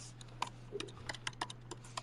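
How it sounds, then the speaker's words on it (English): Keystrokes on a computer keyboard, a sparse run of light clicks with uneven gaps, faint and close, over a steady low hum. "somebody's at a keyboard"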